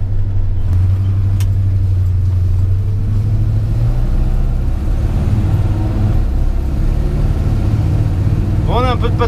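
A 1970 Chevrolet C10 pickup with a 350 cubic inch V8 drives along, its deep engine rumble rising and falling as it pulls, heard from inside the cab with someone talking over it.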